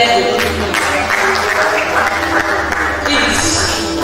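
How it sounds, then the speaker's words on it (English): Audience applause at a medical college's scientific conference closing ceremony, continuous clapping for a few seconds over a low background hum in a hall. "please, round of applause for him"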